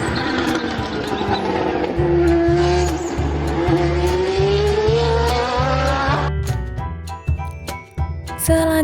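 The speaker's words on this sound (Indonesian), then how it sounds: "selanjutnya juga mobil balap teman-teman" A race car revs hard and accelerates, its engine pitch climbing steadily with loud pulsing rumble, then cutting off into lighter clattering and a final rev.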